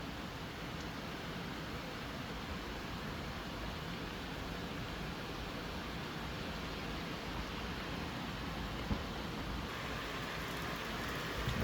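Heavy rain falls during a thunderstorm in Gironde, a steady dense roar of downpour that stays even and continuous throughout.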